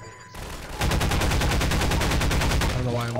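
A gun firing in Half-Life 2, a fast, steady string of loud shots running for about two and a half seconds, close and alone.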